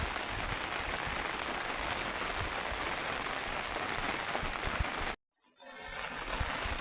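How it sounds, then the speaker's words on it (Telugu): Heavy rain pours down in a steady, dense roar of drops that fills the space, then cuts out abruptly for a moment before the downpour returns. "చాలా రోజుల తర్వాత వర్షాన్ని మనం ఎంజాయ్ చేస్తాం"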